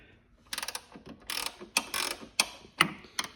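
Ratcheting wrench clicks in short bursts while loosening the side bolts on a Toro Recycler mower's blade clutch: several quick close-up clicking runs separated by brief pauses, with sharp metallic ticks toward the end.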